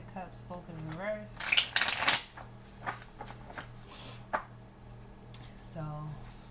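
A tarot deck being cut, giving a quick flurry of close papery card riffles and slaps between stretches of a person talking.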